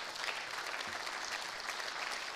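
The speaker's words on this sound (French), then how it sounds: "Et je vous demande de l'applaudir très fort" Brief, steady applause from an audience at a public gathering in support of free expression, a uniform wash of clapping with no voices standing out.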